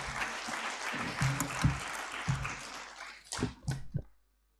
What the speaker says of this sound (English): I would like to welcome him on the stage with a huge round of applause.